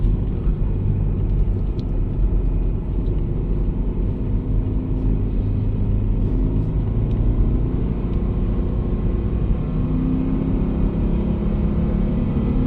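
A 6-speed Subaru BRZ on Nokian Hakkapeliitta winter tires climbing a snowy mountain pass, wheels spinning for momentum; a steady, loud engine drone and road rumble continue throughout without talk.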